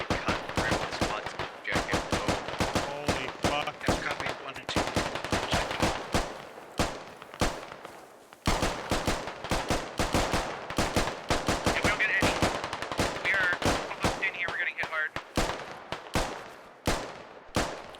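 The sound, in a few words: gunfire in the video game Squad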